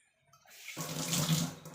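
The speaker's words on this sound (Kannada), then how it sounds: "ನಿಮ್ಗೆ ನೀರು ಎಷ್ಟು ಬೇಕೋ ಅಷ್ಟು ಹಾಕೋಬೋದು" Water is poured into lentil sambar, starting from near silence and swelling into a steady splashing gush that runs close and clear to the end.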